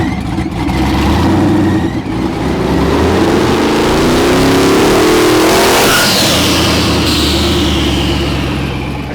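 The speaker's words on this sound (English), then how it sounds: "So kind of doing a fake test and a burnout and let's just have some fun real quick." Rat rod drag car engine revving hard through a burnout, a loud continuous roar that climbs in pitch and swells midway before easing off, close and alone with no talk.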